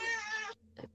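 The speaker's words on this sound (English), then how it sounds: "Sorry for the cat, if you can hear her." A pet cat gives one clear, drawn-out meow close by, followed by two short fainter chirps.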